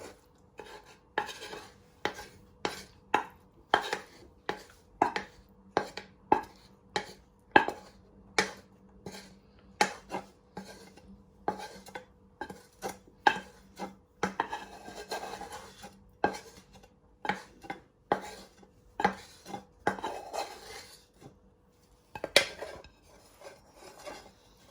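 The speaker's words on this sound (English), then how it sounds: "Now you want to get your shallots and mushrooms and you want to spoon them all out." A metal spoon scrapes shallots and mushrooms out of a pan while making beef Wellington. The clinks and scrapes come in a steady, close rhythm of sharp taps, one after another, with no talking.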